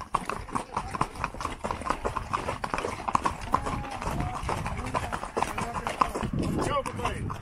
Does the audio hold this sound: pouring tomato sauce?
no